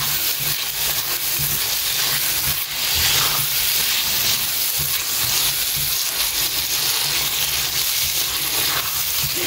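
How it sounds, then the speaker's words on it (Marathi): Fried prawns go into a tomato masala in a pan, sizzling and hissing continuously while being stirred, close and fairly loud. "हे प्रॉन्स हांवें फ्राय करून दवरलेले न्ही डायरेक्ट घालून सोडटा आनी दिता बरो मिक्स."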